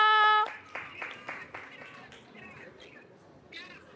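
A grandmother claps her hands a few times in quick succession on a phone or video call, the claps fairly near and mid-loud, with a voice speaking around them.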